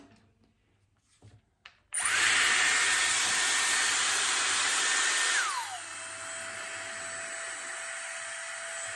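A Dyson Airwrap hair styler clicks on and runs with a loud, steady, high-pitched whine and rushing air while drying hair, then drops to a lower, quieter setting partway through.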